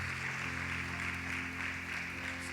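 A church congregation applauds for God in a steady, continuous wash of clapping that stays even throughout, with a low electrical hum beneath it.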